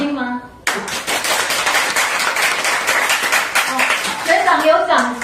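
An audience claps steadily through a Taiwanese-language poetry and song talk at a bookshop, with close, dense applause that fades slightly toward the end while someone speaks over it.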